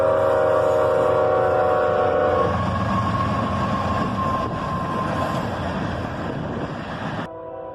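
A CSX freight train rushes past a park in Carlisle at track speed, its horn sounding loud and close at first before giving way to a heavy, continuous rumble and clatter of cars that slowly fades until it cuts off.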